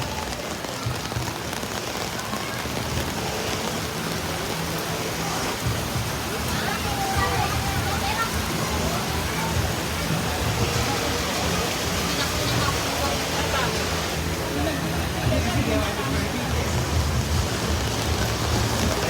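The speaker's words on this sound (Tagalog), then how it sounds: "Oh, big rain start, big." Heavy rain falls at a festival in Angeles City, Pampanga, making a dense, constant hiss and patter on surfaces throughout. It is loud and close, with faint voices under it.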